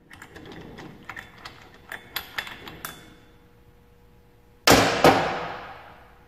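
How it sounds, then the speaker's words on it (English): Ratcheting clicks of a swing handle and socket loosening a flywheel nut, a series of light metallic ticks, then two loud sharp metal clanks that ring out close by. "you're going to break that loose and turn it. Take the nut right off."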